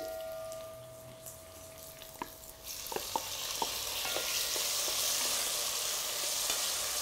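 Tomato added to browned onions in a pot for rougail saucisses, sizzling and frying with a steady hiss that swells after a few seconds, scattered stirring clicks and spatters throughout, no talking.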